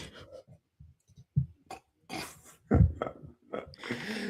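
A woman's series of throaty coughs and hacking bursts, close and fairly loud, with short gasping breaths between them.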